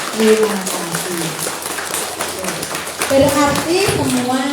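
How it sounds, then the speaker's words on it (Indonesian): Schoolchildren at an Indonesian primary school clap together in a brief burst, mixed with lively children's voices and an adult talking over the clapping. "Tepuk tangan semuanya."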